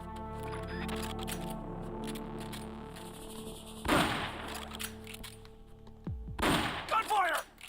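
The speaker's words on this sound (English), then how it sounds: "Gunfire!" In Metal Gear Solid: Peace Walker, bursts of gunfire crack out, first a single volley, then a rapid cluster of shots near the end.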